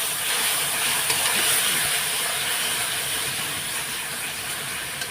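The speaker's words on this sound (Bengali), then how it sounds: "এখন মশলাটা একটু কষিয়ে নেব একদম কষা কষা করব" Spice paste masala with Kashmiri chilli powder fries in a pan for a fish curry, making a steady, dense hiss of sizzling oil at close range.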